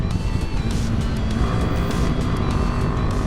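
A Royal Enfield Himalayan 450 motorcycle being ridden hard, its engine a steady, loud drone blended with heavy wind rush throughout, with no talking.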